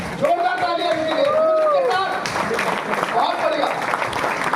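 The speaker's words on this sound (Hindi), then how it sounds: "जोरदार तालियां इनके लिए" Audience applause at a stage event, a crowd clapping at moderate distance while a voice carries tonal, drawn-out vocal sounds over it, the clapping continuing after the voice fades.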